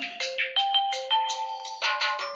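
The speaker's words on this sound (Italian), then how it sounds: "scusate spengo il cellulare" A mobile phone rings indoors during a talk, a bright electronic melody of short repeated tones in quick bursts, clear and fairly close, with no talking over it.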